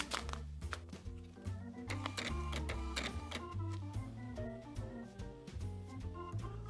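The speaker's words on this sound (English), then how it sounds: "maybe what you need is a portable handheld inkjet printer" A portable handheld inkjet printer runs with a fast, rhythmic mechanical chatter and stepped whirring tones, steady and moderately quiet throughout with no talking.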